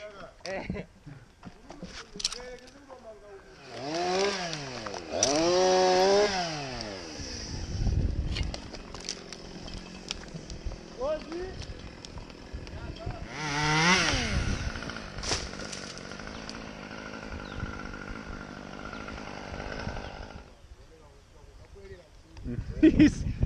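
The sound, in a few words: cutting storm-damaged hazard tree, likely with a chainsaw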